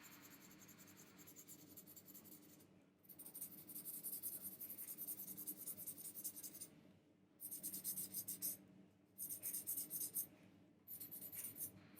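Soft, steady scratching of a colored pencil shading across paper, close up, in several long strokes separated by brief pauses.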